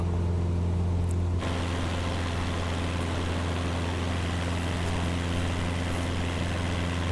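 Cessna 172 Skyhawk piston engine in a flight simulator game: a steady, loud low drone with a constant hum that continues unbroken throughout, with no voices.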